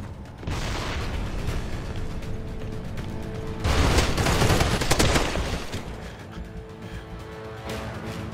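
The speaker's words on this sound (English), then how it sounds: "Watch it! Grenade!" A grenade detonates amid gunfire in the multiplayer shooter Crossfire X, a loud broad blast in the middle of continuous rattling shots and mechanical clatter that fade afterwards.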